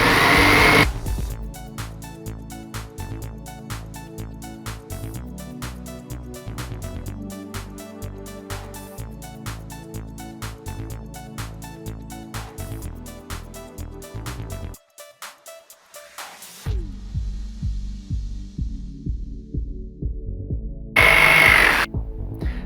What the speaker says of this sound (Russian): И аккуратно лобзиком по полосе отрезаем